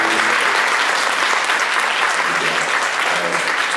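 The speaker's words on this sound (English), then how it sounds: "Everyone give these speakers a round of applause" An audience at a community forum applauds the speakers. The clapping is loud, sustained and dense, with a few faint voices mixed in under it.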